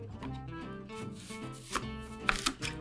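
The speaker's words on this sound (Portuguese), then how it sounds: "Então eu vou cortar minha maçã em 4" A knife cuts an apple into quarters on a board for apple pie, with close scraping, rubbing strokes followed by a few sharp chops near the end, steady and fairly quiet with no talking.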